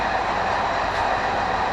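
A passenger train ride in Morocco on a two-hour trip toward Casablanca: a loud, constant rumble of the railcar with a broad rolling hiss of wheels on track, no voices over it.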